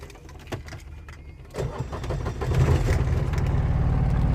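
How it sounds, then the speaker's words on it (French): A Chatenet CH28 microcar engine cranks and catches, then settles into a steady, fairly loud idle rumble. "Je vais quand même allumer le moteur."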